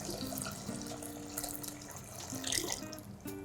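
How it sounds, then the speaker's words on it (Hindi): Flavoured water is poured into a pot for Rajasthani gatte ka pulao, a soft splashing, gurgling stream with faint trickles, quiet and close, with no talk. "केयरफुली ये पानी डाल देंगे हम।"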